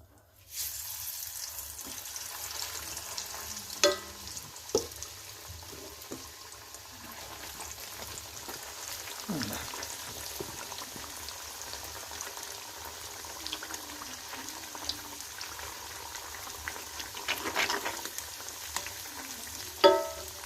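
Chicken pieces for pakoda sizzle and bubble in hot oil, a steady crackling hiss with a few soft clinks of a utensil against the pan.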